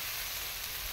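Turmeric powder hitting hot oil in a pan gives a steady, close, broadband sizzle lasting about a second, with no voices over it.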